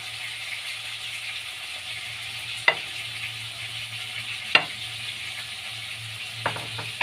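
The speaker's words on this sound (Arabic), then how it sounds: "بعد كده هنزل ببقيه الطماطم بقى،" Tomatoes sizzle steadily in a pan for a chicken and potato casserole, with a continuous close frying hiss broken by a few sharp clinks and scrapes of stirring.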